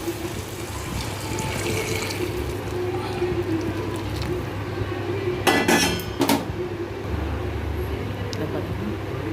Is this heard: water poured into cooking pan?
yes